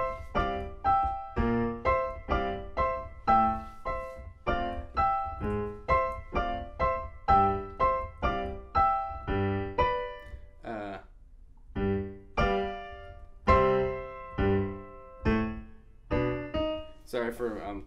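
Ragtime piano phrase from Scott Joplin's The Entertainer, played solo with bouncy, evenly spaced chords and melody notes, clear and close, with a short pause near the end before the playing resumes.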